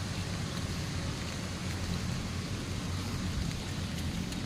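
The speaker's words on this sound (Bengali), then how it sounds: "প্রচুর ঘিজঘিজ করে বৃষ্টি হচ্ছে" Steady, dense rain falling on a muddy road, an even hiss with no breaks and no voices.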